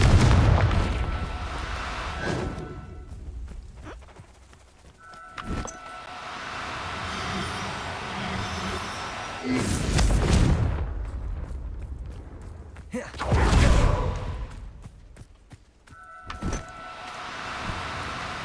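Bombarda and Confringo spell explosions in Hogwarts Legacy: several loud, booming blasts spaced a few seconds apart, each a sudden burst that rumbles and fades, over a low background with short bright tonal chimes.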